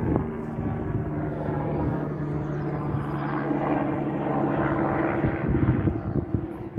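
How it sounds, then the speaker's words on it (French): A helicopter passes low overhead with a loud, steady engine and rotor drone that holds throughout; no one speaks. "il y a l'hélicoptère, on va essayer de le filmer vite fait."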